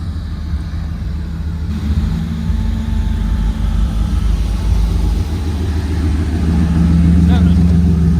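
A Mitsubishi Starion with a swapped-in V8 runs with a deep, close rumble that swells toward the end, while people talk over it inside the car.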